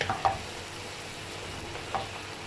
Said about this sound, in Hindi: इस स्टेज पे मैं इसके अंदर दही का मिक्सचर जो हम लोगों ने रेडी किया था ये ऐड कर रही हूँ